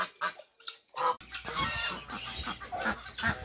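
A male goose lets out a run of sharp, high-pitched honking calls up close, first short separate bursts and then a denser stretch of calling.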